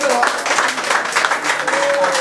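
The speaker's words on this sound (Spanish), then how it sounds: "Ahora sí ustedes van a aplaudir." Wedding guests applauding after the ceremony at a wedding in Sosua, dense steady clapping from a crowd filling the whole stretch, with a voice faintly underneath.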